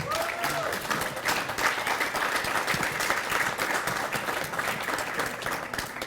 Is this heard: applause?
yes